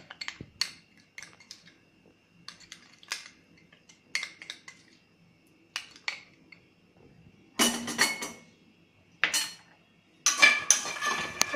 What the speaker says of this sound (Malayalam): മുളക് പൊടി ഇതെല്ലാം ചേർത്ത് നന്നായിട്ട് മിക്സ് ചെയ്ത് വയ്ക്കുക